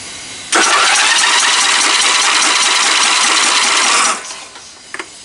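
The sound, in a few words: lawn tractor engine running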